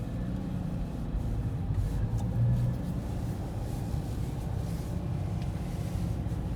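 A manual 2013 Scion FR-S with about 100k miles rolls through a parking lot in first gear, a low steady engine drone heard from inside the cabin.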